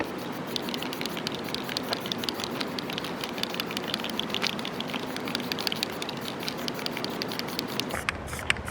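Aerosol Plasti Dip rubber coating being sprayed onto a vehicle's back grille, a steady close hiss with a faint rattly patter running unbroken for several seconds.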